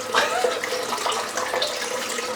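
Water runs from a bathroom sink tap in a steady, fairly loud splashing gush that carries through the short stretch, with no voice over it.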